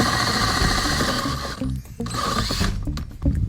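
A power drill with a 2.5-inch hole saw whines and grinds steadily, dipping briefly as the bit bites, then revving again, loud and close.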